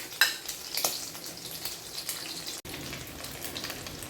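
Cheesy hotdogs on sticks frying in hot oil, a steady crackling sizzle at close range with a few sharper pops early on and faint clinks, no talking.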